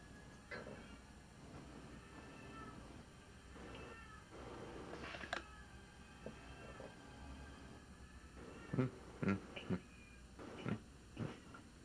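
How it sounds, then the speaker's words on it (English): A domestic cat meows several times in short, close bursts near the end, with quieter fussing sounds earlier over a faint background hum. "Can you hear my cat?"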